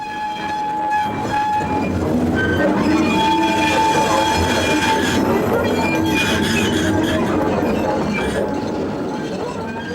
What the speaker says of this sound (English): The shunting operation is continuous, the locomotive never pausing for more than a few seconds at a time.